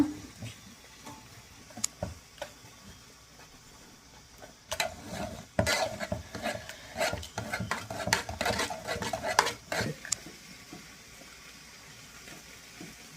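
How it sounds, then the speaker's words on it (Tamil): Cooked lentils are mashed in a pot for a quick sambar with tomato, shallots and garlic. Quiet opening taps give way to a dense run of scraping, clinking utensil strokes against the pot in the middle, then it settles back to faint sounds. "இதில் இது வந்து மேஷ் பண்ணிக்கலாம்"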